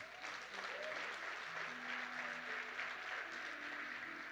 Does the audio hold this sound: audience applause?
yes